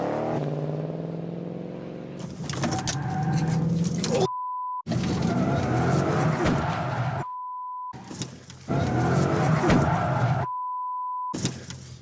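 A car running a slalom course, its engine surging and dropping as it weaves. The run is broken by several beeps and stretches of silence.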